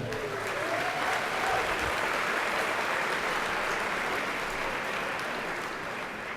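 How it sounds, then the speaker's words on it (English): Sustained applause and cheering from an audience at the eircom Spiders Awards, Irish tech sector ceremony, steady and dense throughout, filling the hall with no voices on top. "So a big cheer for the Irish tech sector is really outstanding"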